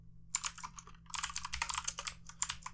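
Someone types on a computer keyboard while writing C# code, producing quiet, close, rapid key clicks in two bursts separated by a brief pause, with no talking.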